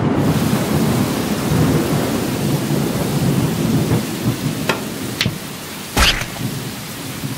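Steady rain fills the whole stretch, with a few sharp cracks and a booming thunderclap near the end, close and loud, in a 2D cartoon.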